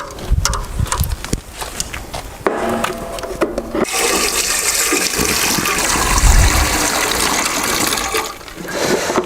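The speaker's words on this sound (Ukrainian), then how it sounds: "Зараз будемо заливати в парогенератор воду." Water is poured into the steam generator of a centrifuge wax melter, a gushing, splashing fill that starts with some clattering handling and then runs loud and continuous for several seconds.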